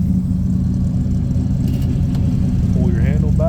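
Engine of a 1978 Chevy square body dump truck runs steadily at close range, a low continuous rumble throughout, with someone talking over it.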